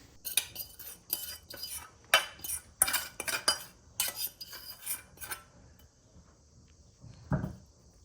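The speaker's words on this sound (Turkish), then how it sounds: "Bütün her tarafına eşit gelecek şekilde çatal yardımıyla sürüyorum." A fork scrapes and clinks repeatedly in quick, irregular strokes, spreading garlic sauce across bread, then falls quiet with a faint final knock.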